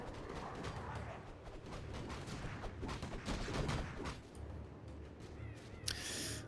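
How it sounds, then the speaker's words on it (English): Warcraft III battle noise, a dense clatter of clashing units, impacts and spell effects rolling on continuously at moderate level, with a sharp bright burst near the end. "A player's forces are under attack."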